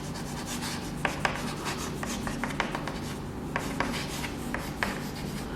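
Chalk or a marker scratches and taps across a board during a chemistry lecture, quiet and close, in short irregular strokes with small clicks, and no one speaks over it.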